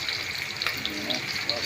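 Embutido and sinangag fried rice sizzle together in a single pan on a breakfast stove, a steady close frying hiss with faint scraping of stirring throughout.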